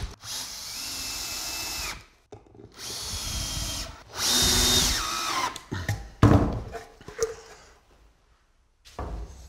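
A power drill drives screws into the back panel of a small wooden key cabinet, with two or three loud whirring bursts separated by pauses, followed by clattering handling noises, close up.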